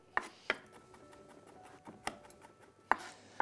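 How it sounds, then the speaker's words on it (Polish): A kitchen knife finely chopping rinsed garlic for żur soup, heard as sparse, sharp, close knocks on a cutting board at an uneven rhythm, with quiet gaps between strikes. "Ten czosnek oczywiście trzeba spłuczyć. Siekamy drobniuteńko."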